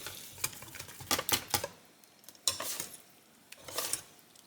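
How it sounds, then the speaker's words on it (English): A power blender agitates liquid apple-baby batter in short bursts of loud, gritty whirring and sloshing, stopping and restarting, with brief pauses between. "Power blender, baby, right here."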